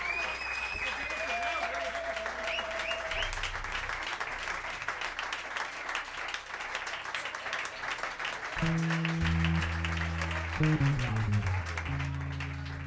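Sustained audience applause at an AC Recoletos Jazz concert, a dense wash of clapping throughout, with low held musical tones coming in over the crowd during the last few seconds.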